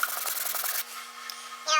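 A small dishwasher part is hand-sanded with 2000 grit sandpaper, giving quick close rubbing strokes that stop midway, then a short final scrape.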